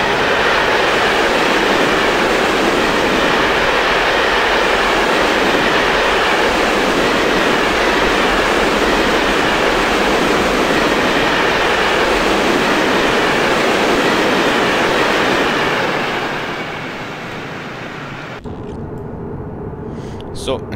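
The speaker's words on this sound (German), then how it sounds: "hier kommt der Zug." A train rushes past in Train Simulator 2016, a loud, steady roar with wheel rumble that holds for about seventeen seconds, then drops off sharply into a quieter hum.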